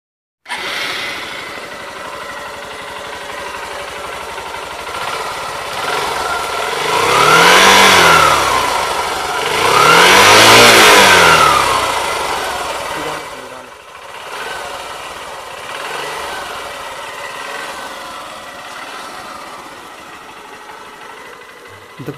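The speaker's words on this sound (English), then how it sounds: "Now let's check the exhaust of this bike." A Honda CB Shine 125 motorcycle engine idles, then revs up twice in smooth rising and falling swells through the exhaust, before settling back to a steady idle.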